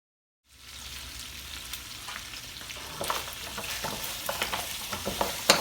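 Tomato paste fries in a pot at moderate heat while being stirred, a continuous close sizzle that starts after a brief silence, with scraping stir strokes growing louder and more frequent toward the end.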